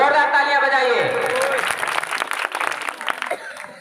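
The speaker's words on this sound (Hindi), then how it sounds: "जोरदार तालियां बजाइए" Audience applause breaks out at a Ramlila stage performance, clapping rising under a fading voice and continuing in dense, uneven bursts.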